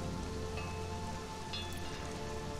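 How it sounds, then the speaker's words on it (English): Rain in the video game Conan Exiles, near a camp in the snow biome: a dense, continuous patter of raindrops on surfaces, even and fairly close throughout, with no voices. "Don't you like the way it rains in here?"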